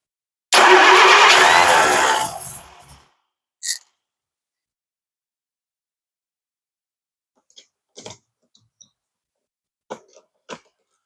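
A primed, coolant-filled motor with a very hot starter cranks and tries to fire in one loud two-second burst, then falls quiet except for a few faint clicks and knocks.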